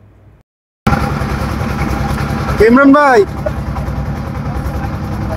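A boat's motor drones steadily on a river with a continuous low, chugging hum, briefly joined by a rising and falling tonal wail; someone speaks over the engine noise.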